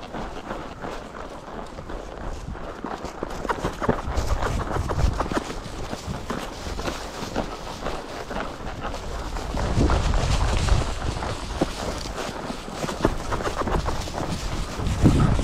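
A young mare runs while roping calves, her hooves thudding in a rapid irregular rhythm on the ground, steady and moderately loud across the whole stretch, with no talk over it.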